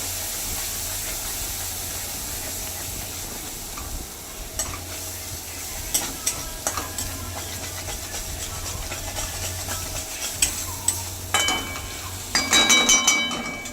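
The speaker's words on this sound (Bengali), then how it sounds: "এবার এটাকে হালকা করে নেড়ে নিতে হবে যতক্ষণ না তেল ছাড়ছে।" Paneer masala paste being stirred in hot oil in a pan, a steady low sizzle and frying hiss running throughout, with a spoon scraping and occasional clinks against the metal growing louder toward the end.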